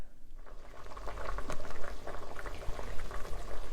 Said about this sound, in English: Our tomatoes have come to a boil